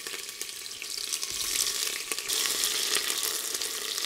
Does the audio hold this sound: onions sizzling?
yes